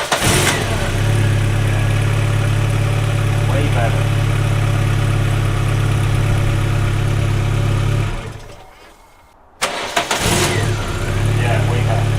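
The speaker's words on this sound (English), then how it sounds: "Normally it would be quite slow to crank, so it would sound a bit lazy." A VW Golf fitted with a new battery idles with a steady, close engine hum, falls quiet briefly, then cranks and fires back up into a loud idle.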